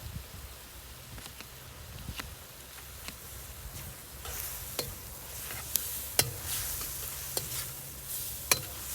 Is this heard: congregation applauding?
no